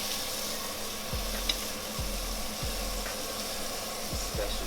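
Steaks topped with butter fry in a pan, giving a steady, close hiss and sizzle with a few soft low thumps scattered through it and no talking.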